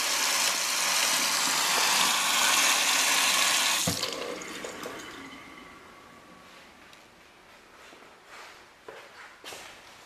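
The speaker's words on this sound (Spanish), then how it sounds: "el agua." Water gushes loudly from a tap in a house for about four seconds, then shuts off, leaving quiet room noise with a few faint knocks and footsteps.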